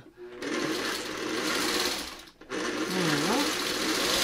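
A sewing machine whirs steadily, running over and over on the same spot, with one brief stop midway before it picks up again close and loud.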